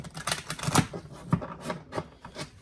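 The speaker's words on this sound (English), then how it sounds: "Get one last shuffle for my collective here. One last shuffle, please." A deck of oracle cards is shuffled by hand, producing a quick run of crisp riffles and taps in an uneven burst, close and fairly loud with no talking.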